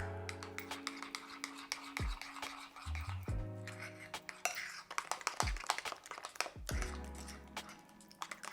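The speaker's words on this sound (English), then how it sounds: "All we're going to do is mix the spices into the yoghurt." Spices stirred into yoghurt in a bowl with a spoon, giving close, irregular clinks and scrapes against the bowl, some sharper taps standing out, with no talking.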